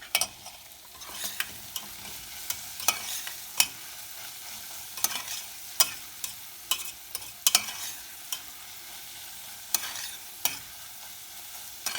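Tomato paste fries with onion and minced meat for a spinach root dish, a low constant sizzle broken by frequent sharp spoon taps and scrapes against the pan.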